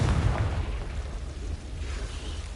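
A Confringo fire-blast spell from Hogwarts Legacy goes off as a loud, rumbling burst that fades into a low, sustained roar.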